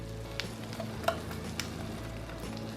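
Chopped onion fries in butter in a hot cast iron pan over a strong flame, giving a steady close sizzle with small crackles and a few light stirring clicks throughout.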